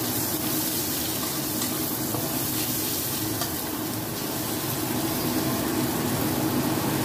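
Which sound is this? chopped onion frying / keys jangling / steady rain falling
chopped onion frying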